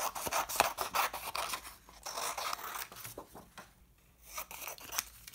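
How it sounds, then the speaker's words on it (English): Scissors cutting roughly through printed 160 gram paper, a close run of crisp snips and rasping slices that pause briefly near the middle and then resume. "First I'm going to cut two of these quite roughly."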